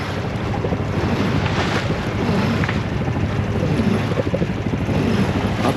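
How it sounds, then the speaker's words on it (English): Steady wind rushes across the microphone on a sailboat under sail, with water sloshing and washing along the hull. The noise is loud and continuous throughout, and no one speaks. "It's windy though."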